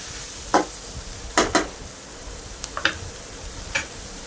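Chicken being stirred with spice powders, including pepper powder, in a pan for pepper chicken: a few distinct scraping stirs and soft clicks over a steady low sizzle, close up and without talk.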